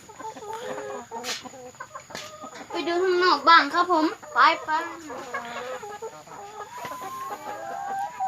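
Chickens around twenty weeks old cluck and squawk on a farm, close and loud, with someone speaking over them partway through.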